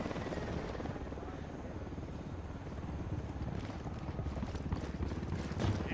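A helicopter in the video game Ghost Recon Wildlands, a loud, steady rhythmic rotor chop throbbing close by throughout, growing slightly heavier toward the end.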